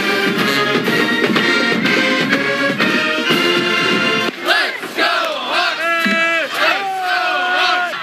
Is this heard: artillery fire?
no